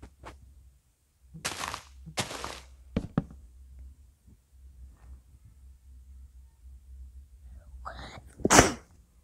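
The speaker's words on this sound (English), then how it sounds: "I sneeze on my arm" A single sharp, close sneeze bursts out near the end, after a few quieter breathy sounds and soft movement noises.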